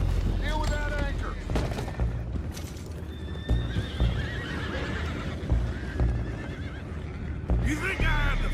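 Horses neigh and whinny in the video game Red Dead Redemption 2, several loud, close calls mixed with hoof clatter and scattered gunfire, while characters talk over the scene.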